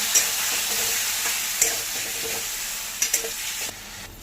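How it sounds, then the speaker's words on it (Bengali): Bay leaves fry in hot oil in a pan, giving a continuous bright sizzle with a few sharp pops and stirring clicks spaced through it. No one speaks. "তেলটাকে গরম হবে, একটু তেজপাতা দিয়ে আমরা ফ্রাই করব।"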